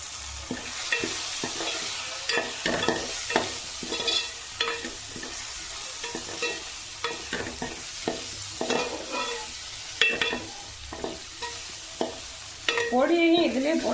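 Mutton curry ingredients with a piece of coconut sizzle as they are sautéed in a pan, with continuous frying hiss and rhythmic scraping strokes of a spatula close by, and no voices.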